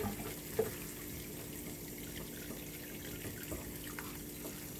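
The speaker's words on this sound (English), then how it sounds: "let's run some water in here so we can strain these beans" Tap water runs over rinsed canned beans in a strainer, a soft, steady, quiet flow with a few faint knocks and drips.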